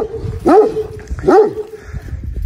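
A single dog barks twice in quick succession, close and loud, with sharp harmonic yelps over a quiet background.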